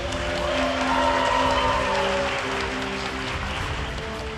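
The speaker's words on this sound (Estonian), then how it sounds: "vanemad, klassijuhataja, aplaus!" Audience applauding at a school graduation ceremony in a theatre hall, a steady, dense wash of clapping that holds at an even level throughout, with low tonal hum beneath.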